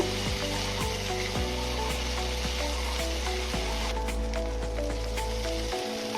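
A masala of cumin, coriander and Kashmiri chilli powder frying in a pan while being stirred, giving a continuous dense sizzle with light scraping and a few soft clicks, steady and close throughout.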